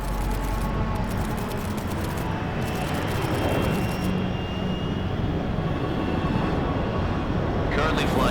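An aircraft cruising at 30,000 feet over the Arctic Ocean in Metal Gear Solid Delta: Snake Eater, heard as a steady, broadband engine drone that fills the whole stretch without a break.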